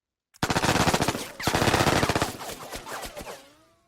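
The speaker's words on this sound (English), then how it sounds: "I think we'll go ahead and shoot with this guy." Automatic gunfire rattles in a Vietnam War tactical video game. A rapid string of loud, close shots starts after a short silence and runs for about three seconds, thinning into scattered reports before fading.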